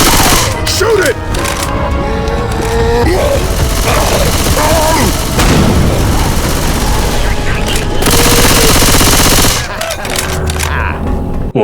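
Heavy gunfire in the Left 4 Dead 2 video game as players shoot down the Tank: loud, continuous automatic bursts and booming blasts, close and dense, with voices shouting amid the shooting.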